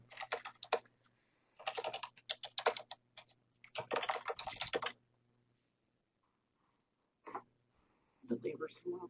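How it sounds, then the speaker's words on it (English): Fast typing on a computer keyboard during a live scrapbooking session: several quick, close bursts of key clicks separated by pauses, with a faint background hum. "typing, furiously typing"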